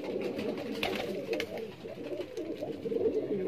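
Rampuri pigeons coo in a soft, continuous low murmur close by, with faint background noise and occasional flutters but no clear talk.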